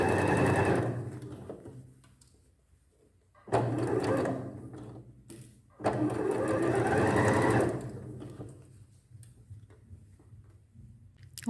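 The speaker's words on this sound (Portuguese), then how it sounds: "eu passei uma costurinha em toda a volta, toda a beirada dela" Sewing machine stitching steadily around the edge of a gathered elastic sleeve, with three bursts of running stitching separated by brief pauses, close and fairly loud.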